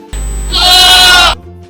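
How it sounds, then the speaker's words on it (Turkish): A lamb lets out a single close, loud bleat lasting just over a second, rising in pitch midway before stopping abruptly. "Bu bir kuzu."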